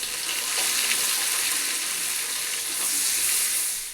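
Chopped onion frying in ghee for a Bengali prawn pulao, a steady close, dense crackling sizzle that holds at an even level throughout.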